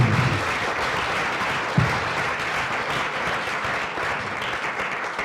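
An audience at a rural development and climate change colloquium in Madagascar applauds at the close, a sustained, fairly even wash of clapping that holds steady throughout with no speech over it.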